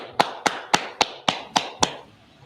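Clapping at a biblical law class: seven sharp, evenly spaced claps in a steady, unison rhythm, then a quiet tail. The room is otherwise calm and there is no talk.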